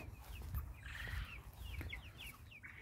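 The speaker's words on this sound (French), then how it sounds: "Des dindes bleues et des pintades d'un peu de toutes les couleurs." Blue turkeys and multicoloured guinea fowl on a farm, giving a run of short clucks and chattering calls at middle distance, fairly faint against a low outdoor rumble.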